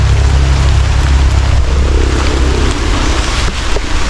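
Heavy rain falls outdoors in the Philippine countryside during the lanzones harvest. It makes a loud, steady, broadband hiss with a low rumble underneath and no voices.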